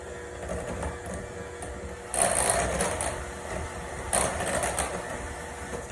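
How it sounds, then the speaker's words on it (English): Electric hand mixer whirring steadily through cake cream for a final mix, loud and close, with two brief surges in intensity as the beaters dig in; no talk. "Now I'm gonna give it one last little mix."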